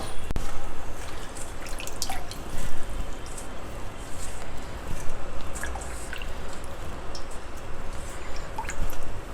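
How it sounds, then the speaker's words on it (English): Methi leaves being rinsed by hand in a bowl of water, with steady close-up splashing, dripping and wet squishing sounds throughout, no talking. "wash them thoroughly in the water like this"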